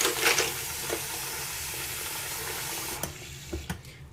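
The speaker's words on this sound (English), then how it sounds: "I'm going to put some not too warm water" Not-too-warm tap water runs steadily into a container for cleaning brass cartridge cases, a continuous hissing stream with a few clinks and knocks near the end.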